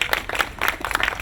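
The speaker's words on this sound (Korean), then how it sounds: "그동안에 수고해주신 시의원님 또 도의원님께 감사드리면서 박수 한 번 더 주시면 좋겠습니다" A short burst of crowd clapping from residents at a local community meeting, brisk and fairly close.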